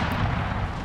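Howitzer artillery booms in an Empire: Total War battle, a dense, rumbling roar of cannon fire that fills the brief moment without any voice over it.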